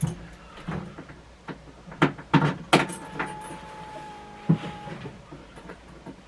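Keys jangle and a key turns in the ignition of a Polaris vehicle that may have a locked-up motor, giving a few close metallic clicks and rattles followed by a faint electrical whine.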